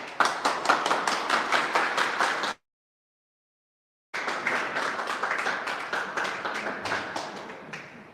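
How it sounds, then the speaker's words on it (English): Audience applause at a Lunch & Look event with the Drawn Together Collective, a steady burst of many hands clapping that breaks off into a short silence, then resumes just as full and fades out gradually. "I don't think I've ever had a luncheon look with this much applause."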